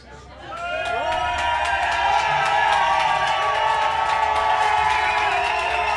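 A loud crowd cheers wildly at a televised wrestling show, a sustained roar of shouts and whoops that swells within the first second and holds steady.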